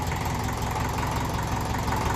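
A 1954 Ferguson TEF 20 diesel tractor idles close by, a loud, steady low chugging with rapid even knocks, the revs wavering slightly between tick-over and a light rise, with no one talking.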